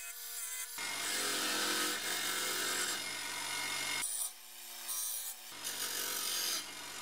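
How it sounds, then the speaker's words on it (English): Rust is scrubbed off BMW E30 dashboard mounts with steady, close abrasive rubbing in two long sustained bursts separated by a short pause, loud and continuous with no talking. "I removed the rust from the mounts themselves"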